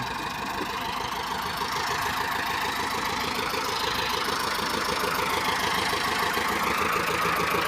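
A three-cylinder tractor engine runs close by, a steady loud rumble with a rough, knocking pulse throughout, with no talk.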